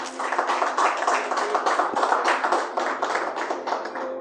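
A church congregation claps for Jesus, a rhythmic, fairly brisk stream of many hands clapping together, steady and moderately loud.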